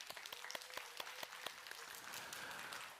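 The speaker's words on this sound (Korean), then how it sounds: "우리 여자들에게 빨리 박수 한번 쳐주시기 바랍니다" A church congregation applauds the women during a Sunday worship service. Crisp, separate claps build into a soft, steady wash of clapping, faint and heard from a distance in the room.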